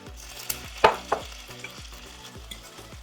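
Close-up sizzling and frying of hot cheesy chicken-stuffed bell peppers, with sharp clatters and a couple of loud knocks, like a pan being handled, over a steady crackle.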